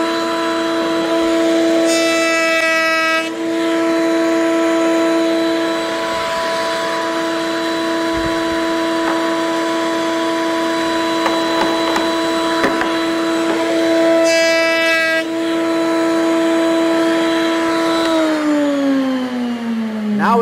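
A wood router spins up and runs steadily while cutting a round dowel, a loud sustained whine with a steady pitch and brief changes as the bit engages the wood, then winding down at the end.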